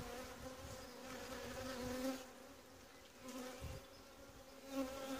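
Honeybee swarm buzzing inside a Langstroth hive, a steady dense hum of many wings with small swells in loudness, close and continuous with no voices.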